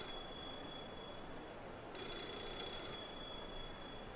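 A payphone ringing in the Yakuza 0 video game, a steady electronic ring tone that grows louder in a burst partway through, with no talk.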